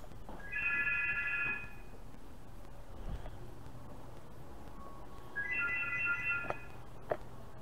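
A hotel room telephone rings in two separate bursts of electronic trilling a few seconds apart, fairly clear over a quiet room hum, with no talking.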